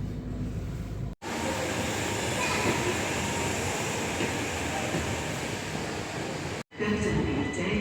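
A train pulls into a station during a rail strike, its steady loud rumble filling the platform and broken by two brief cuts in the sound.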